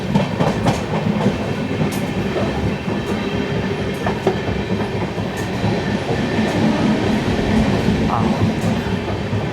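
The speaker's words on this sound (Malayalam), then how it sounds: "ഇതാ നമ്മൾ മാവേലിക്കര സ്റ്റേഷനിലേക്ക് എൻ്റർ ചെയ്യാണ്." A train rolls into Mavelikkara railway station with a loud, continuous rumble of wheels and a clickety-clack over the rails, recorded close by and lasting throughout with no voices.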